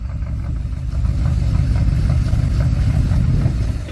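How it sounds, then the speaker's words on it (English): A 4x4 engine revs hard with wheels spinning in soft ground while assisting a winch recovery on an outback track between Red Bluff and Murchison, a steady loud low rumble with clatter throughout. "Problem with revving the engine too much and spinning the wheels too fast is that it just digs a hole"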